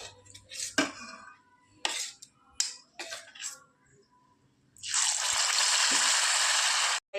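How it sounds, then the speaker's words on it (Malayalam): Jackfruit fritter pieces go into hot oil. Several sharp utensil taps and clinks come first, then a loud, steady, hissing sizzle as the frying begins and continues for about two seconds. "ഇനി ബാക്കിയുള്ള ചക്ക പീസുകളെല്ലാം ഇതുപോലെ തന്നെ നമുക്ക് ഫ്രൈ ചെയ്തെടുക്കാം."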